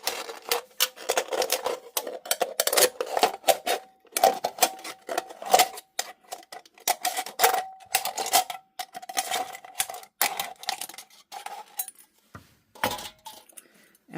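Scissors or snips cutting through an aluminum soda can with the bottom removed, a rapid series of sharp metallic clicks and crinkling snips, close and fairly loud, pausing briefly between cuts.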